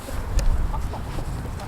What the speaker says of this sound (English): there's some newer laying hens on this side, so they seem to be pretty busy most of the time.